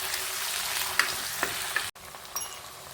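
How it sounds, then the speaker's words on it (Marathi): Tomatoes sautéing in a pan, with a constant close sizzle, a few sharp clinks of a spoon against the pan and a brief break near the end before the frying resumes. "टोमॅटो 2 मिनिटं छान परतून घेऊ"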